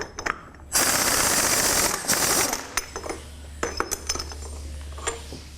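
A ratchet with a deep socket loosening a left-hand-threaded pulley nut on a drivetrain main shaft, giving a burst of rapid ratcheting clicks followed by scattered metallic clicks and clanks close by.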